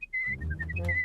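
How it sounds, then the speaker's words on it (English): A Bristly Whistler, a cartoon creature, whistles a quick series of short, bright pitched notes, clear and close, over a low rumbling background. "The whistling started all over again."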